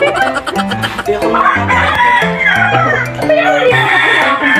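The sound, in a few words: chicken clucking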